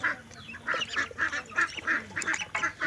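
Several ducklings quack and peep in quick, repeated bursts close by, a lively chorus of short calls with no talk.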